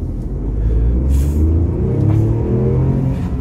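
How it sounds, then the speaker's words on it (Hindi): A 2021 Tata Nexon XM petrol engine revs hard to about 6000 RPM. It makes a loud, sustained, droning rumble with a rising whine, heard close from inside the car. "6000 RPM पर रेव करने पे भी कितनी ज़्यादा नॉइज़ प्रोड्यूस करती है कार"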